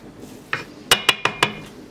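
A spoon stirs semolina and boiling water in a bowl, giving five sharp, close clinks against the bowl, spaced roughly evenly with no talk.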